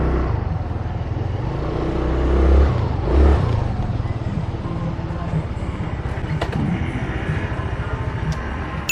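An FKM Fyro 180 v2 180cc scooter accelerates on a ride, its engine a steady low drone under strong wind noise, briefly rising in pitch, with a rider speaking over it.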